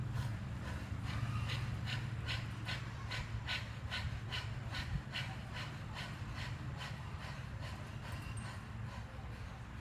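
Forceful belly breathing exercise with sharp rhythmic exhales pushed out roughly every half second, a steady panting pulse over a constant low hum, close and moderately loud.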